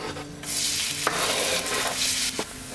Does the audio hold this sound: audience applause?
no